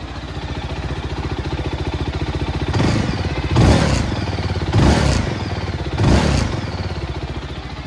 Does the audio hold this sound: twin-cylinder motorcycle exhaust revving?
yes